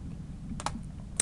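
Computer keyboard keys tapped for an Excel shortcut: a few quick, crisp clicks in a short burst, then one final sharp press, close and clear with no talking.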